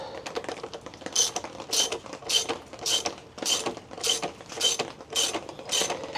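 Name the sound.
wrench and socket tightening dirt bike parts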